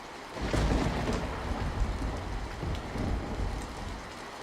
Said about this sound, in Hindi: सुबह के समय झोपड़ी के अंदर तेज बारिश की आवाज आ रही थी।